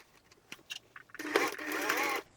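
A sewing machine stitches a fabric book cover close to the edge, with a few light clicks first, then one steady, fairly quiet run of about a second.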